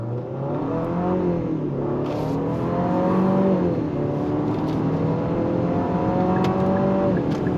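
A 2026 Infiniti QX60 Sport with a 9-speed automatic pulls hard in sport mode, heard from the cabin. A steady rising engine note climbs and drops at gear changes, with a faint whir over a moderately loud drone.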